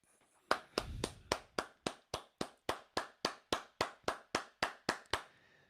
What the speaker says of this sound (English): Big round of applause for Buff.